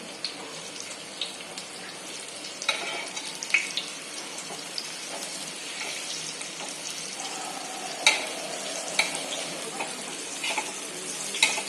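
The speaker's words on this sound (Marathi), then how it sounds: "त्याच्यामध्ये खारकाचे काप करून घेतलेत ना, ते भाजून घेऊया।" Dry date slices roasting in a pan for sheer khurma, a soft dry crackle with scattered sharp ticks and scraping stirs, fairly quiet and close, no speech.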